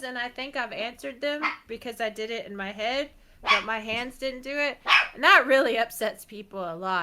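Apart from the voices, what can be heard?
dog barking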